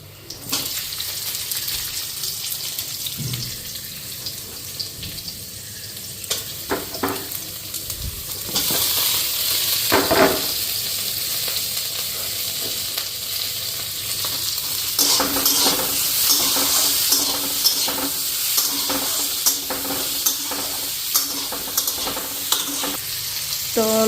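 Onions and tomatoes frying in a pan with small puti fish: a constant oily sizzle with spatula clinks and scrapes, a couple of louder knocks, and a hissing rush that thickens midway, all without talk.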